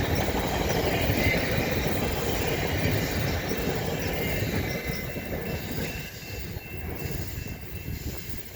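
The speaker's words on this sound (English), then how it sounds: "And the train was come again." A train rolls past close by with a heavy continuous rumble and wheel noise that holds loud for several seconds and then eases as it moves off; no one speaks.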